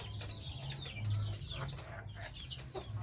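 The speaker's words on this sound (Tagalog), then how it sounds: "Ito yung manok ko." Hens clucking in a backyard flock of egg-laying chickens, several birds giving short, irregular clucks close by over a steady low hum, with no one talking.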